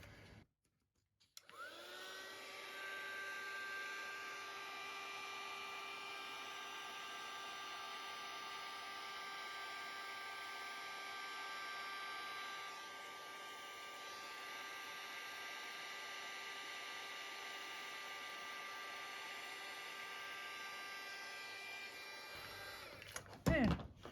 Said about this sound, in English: heat gun noise coming up